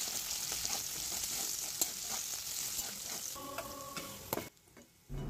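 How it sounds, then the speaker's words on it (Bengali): Chopped onion and onion greens fry in mustard oil with a pinch of salt, a close, steady sizzle and stir that stops abruptly, followed by brief silence and a knock. "এবার এর মধ্যে পেঁয়াজ আর পেঁয়াজ পাতা কুচি দিয়ে একটু ভেজে নেওয়া হবে।"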